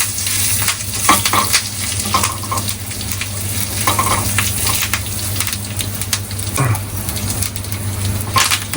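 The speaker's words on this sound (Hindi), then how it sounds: "इसमें डालेंगे हम करी लीव्स भी क्रैकल करेंगे, और फायर को कम करके इसके आधा चम्मच लाल मिर्च डाल के इसको हल्का सा स्टीर करेंगे" Curry leaves crackle and sizzle loudly in hot oil for a tadka, with red chili powder added over lowered heat, in a steady close frying hiss broken by occasional stirring scrapes.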